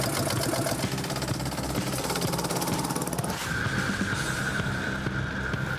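A go-kart engine drones steadily with a buzzing, rattly mid-pitched tone, loud and close, shifting to a smoother higher whine in the final seconds.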